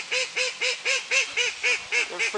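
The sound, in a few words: crested ducks free ranging, honking and quacking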